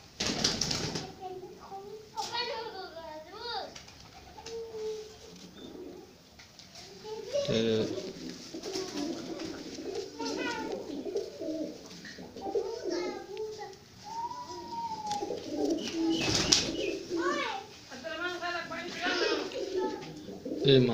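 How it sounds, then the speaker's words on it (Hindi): Pakistani pigeons at a fancier's loft coo and call in soft repeated bursts. Someone talks over them throughout, and there is background chatter. "ये जो सिरा कबूतर है"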